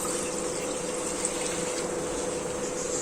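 Water from a glass pours into a kadai on the stove while cooking a dhokli curry, a steady broadband gush of liquid running continuously and fairly evenly through the whole stretch, with no talking.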